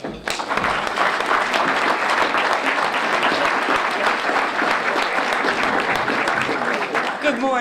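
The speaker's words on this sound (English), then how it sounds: "And let's give this delegation as president a hand clap." Sustained, dense applause from a crowd honoring a state delegation at a Brockton-area ceremony, loud and steady throughout with no pauses, fading slightly at the very end.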